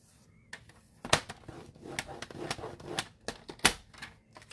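Cardstock for a card base is scored with a tool, giving a series of sharp taps and scraping strokes, close and irregular, with no talk.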